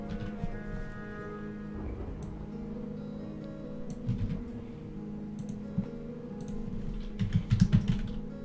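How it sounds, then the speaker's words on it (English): Keys clatter on a computer keyboard during C++ programming, in quick irregular bursts that grow denser and louder toward the end, close up over a low steady hum. "Tired of typing that."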